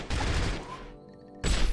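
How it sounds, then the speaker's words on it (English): Gunfire from a James Bond video game comes in loud, dense bursts of rapid rounds, with a brief lull in the middle before a second heavy burst. "Look how he put his gun in the air and shot a bunch of rounds before he died"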